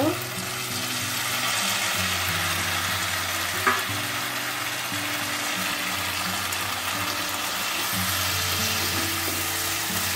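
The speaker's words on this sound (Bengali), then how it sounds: "মিশিয়ে নেব ভালো করে" Young jackfruit fries with potatoes in spice paste in a pan while being stirred, making a steady, dense sizzle close by with an occasional soft knock of the utensil.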